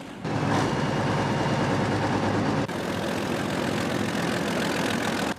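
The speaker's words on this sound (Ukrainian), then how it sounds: "Самі лише розміри та звук мотора піона вже справляють враження" A heavy diesel engine of a Pion self-propelled howitzer idles loudly and steadily, a deep continuous rumble with a brief shift partway through.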